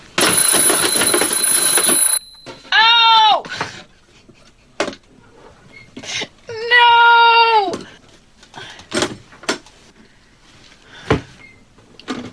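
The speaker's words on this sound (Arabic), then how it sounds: "مين منا مش بيقدر يصحى ويفوق لما بيسمع المنبه؟" A shrill electronic alarm rings loudly for a couple of seconds, then stops; afterward people cry out and talk amid clattering noises.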